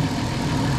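Steady low rumble of a 2007 Dodge Caravan engine idling, close and constant for under a second with no talking.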